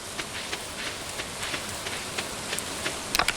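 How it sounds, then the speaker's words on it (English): Rain in a fishing video game patters steadily as soft, dense hiss with scattered droplet ticks and a few sharper splashes near the end, fairly quiet with no voices over it. "I love the rain sounds in this game."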